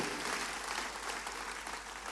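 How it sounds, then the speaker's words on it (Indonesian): A church congregation applauds, a dense, continuous patter of clapping that fills the whole moment at a moderate distance without any voices over it. "Tepuk tangannya boleh yang paling meriah buat Tuhan kita."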